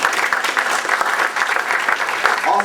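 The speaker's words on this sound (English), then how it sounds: "I think you should give yourselves a round of applause for that." Applause from a town hall audience fills the room, steady and loud throughout, with a voice briefly audible near the end.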